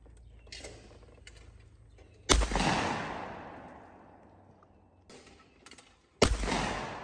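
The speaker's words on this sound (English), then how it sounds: "I'm shooting with a Stoger 20 gauge." A Stoeger 20 gauge shotgun fires at skeet targets outdoors, with two sharp, loud blasts several seconds apart, each trailing off in a long rolling echo, and no speech.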